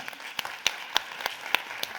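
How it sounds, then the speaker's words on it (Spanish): An audience applauds at a conference session, with scattered sharp claps standing out over a steady broadband patter of many hands, moderately loud and with no voices. "yo os voy a pedir un aplauso muy fuerte para todo este equipazo"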